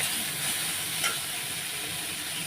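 Fish frying in a pan with spices for a Bengali fish bharta, a steady close sizzle that runs the whole time with a brief louder crackle partway through and no voices.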